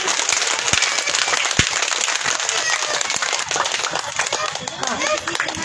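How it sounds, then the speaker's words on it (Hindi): An audience claps at a devotional gathering, a dense, steady patter of many hands sustained at moderate loudness throughout, with some crowd noise mixed in. "जरा दोनों हाथ ऊपर करके जरा अच्छे से एनर्जी भरपूर में ताली बजाइए"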